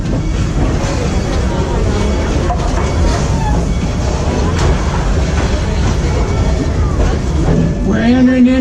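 A Busch Gardens park train rolls steadily along its tracks into the Congo station with a continuous rumbling clatter, loud and close, and a rising whine near the end.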